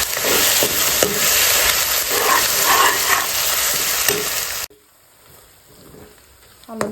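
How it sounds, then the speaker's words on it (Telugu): Ginger paste fries loudly in a pan with a dense, close hiss and crackle for several seconds, then cuts off abruptly to near silence. "అల్లం పచ్చివాసన పోయే వరకు వేయించుకోవాలి."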